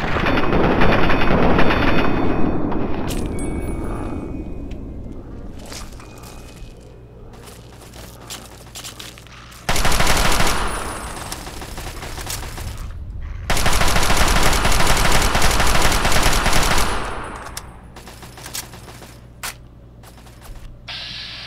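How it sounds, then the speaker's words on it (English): Gunfire aimed at a centaur in Fallout 3, loud sustained bursts of rapid automatic fire in several long stretches separated by quieter gaps, close and dominant throughout. "I'll shoot his torso."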